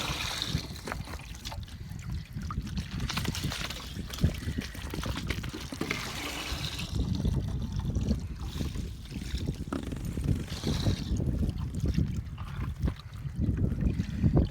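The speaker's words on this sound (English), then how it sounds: "make sure all the water gets out of it" Water gurgles and trickles continuously as it drains out, a steady splashing flow with low rumbling underneath and no voices.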